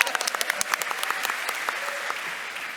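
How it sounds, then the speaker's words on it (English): A crowd claps in a brief round of applause for a team captain, a dense patter of hand claps that starts sharp and loud, then settles into a steady, even wash for about three seconds with no voices on top. "Round of applause for the team captain."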